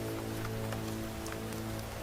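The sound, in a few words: rain falling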